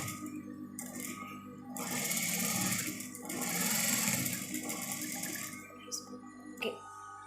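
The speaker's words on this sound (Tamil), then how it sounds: "இந்த ப்ளவுஸில் நான் ஸ்டிச் பண்ணுறேன் பாருங்கள்." A sewing machine stitching around a blouse neckline runs in close bursts of rapid mechanical chatter, stopping and restarting between pauses, with quiet clicks in the gaps.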